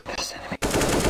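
Gunfire in a first-person shooter game, a competitive match with Viper and one-tap shots, heard as a quick burst of loud shots under the game's background sound, with a short gap and then a dense, sustained volley.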